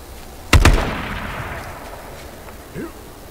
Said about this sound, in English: Guy hit me with the 44 mag, and it did not feel good.